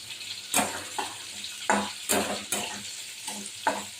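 Onions fry in a pan while being stirred, bursts of crackling sizzle rising with each of several spoon scrapes over a low continuous hiss, close and with no voices.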